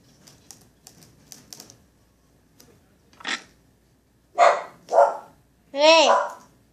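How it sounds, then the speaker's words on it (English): A pet dachshund barks sharply three times close by, loud and distinct, after a stretch of quiet tapping and rustling from duct tape crafting. "Sorry, I have a wiener dog."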